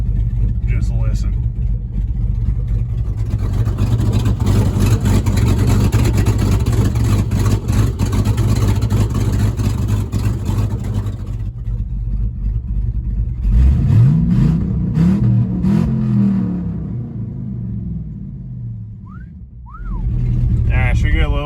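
A 1984 El Camino with a swapped 4.8 LS engine drives, its engine droning loud and steady, then rising as it revs and accelerates, with people talking over it.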